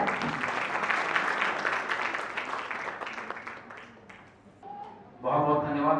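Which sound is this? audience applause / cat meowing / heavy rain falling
audience applause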